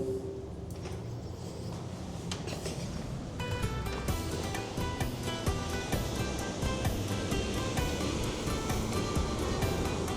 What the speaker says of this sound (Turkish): denizin de böyle çılgın olması benim hoşuma gidiyor